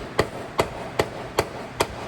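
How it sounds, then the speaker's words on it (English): A hammer strikes a sharp metal piece down on a motorcycle kickstand five times in an even rhythm, each blow a crisp, close, loud metallic knock with short quiet gaps and no voices. "now I'm just hammering that down"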